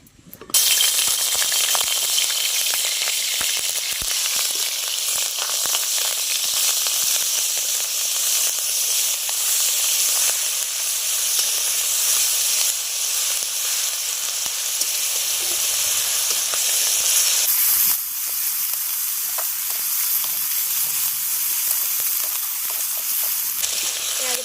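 Paste of onion, garlic and ginger sizzling in hot oil in a pan, a loud continuous bright hiss close by that drops slightly in level partway through and carries on steadily.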